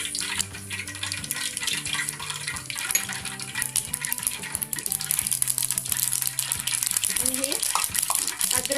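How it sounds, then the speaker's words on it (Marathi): Mustard seeds temper in hot oil in a pan for Mumbai-style vada pav, with a continuous crackling sizzle and scattered pops. Tonal sounds and clinks run underneath throughout. "तेल गरम होते तर मी भाजीची पण फोडणी करून घेते"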